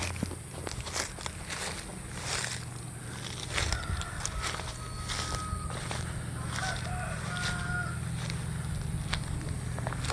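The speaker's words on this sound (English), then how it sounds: "He's got chickens and turkeys and a couple of roosters." Chickens clucking and a rooster calling in the distance on a rural property with turkeys, footsteps crunching nearby and other birds faintly chirping.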